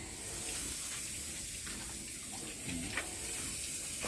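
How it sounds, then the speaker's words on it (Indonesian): A water tap is turned on to feed a Samsung digital washing machine under repair, giving a steady, close hiss of running water for a few seconds with no talking. "kita hidupkan airnya"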